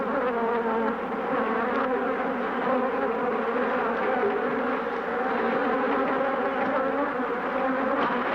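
A swarm of killer bees buzzes steadily and loudly, a dense close hum with no pauses that surrounds the listener.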